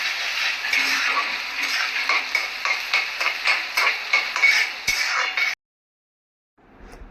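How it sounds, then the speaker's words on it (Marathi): Chopped onion sautéing in hot oil with whole spices in a pan for mutter paneer masala, a steady sizzle broken by rhythmic scraping stirs of a spoon, then cutting to near silence at the end. "त्यानंतर घालूया चिरून घेतलेला कांदा, आणि कांदाही छान लालसर होईपर्यंत परतून घ्यायचा आहे"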